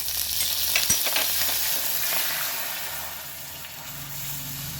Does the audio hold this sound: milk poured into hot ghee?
yes